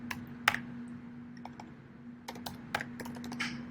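Text is typed on a computer keyboard in short, irregular bursts of soft, close key clicks with pauses between words.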